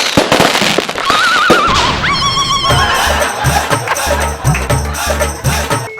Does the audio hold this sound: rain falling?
no